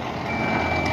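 A boom truck backs up at a roadside accident scene on Villa Verde Road, its reversing alarm beeping steadily over a loud, continuous diesel engine rumble, with no voices.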